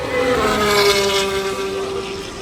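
Formula 2 race cars launching at the sprint race start at the Austrian Grand Prix, a loud sustained engine roar with a steady high tone, heard from a distance through a continuous wash of noise.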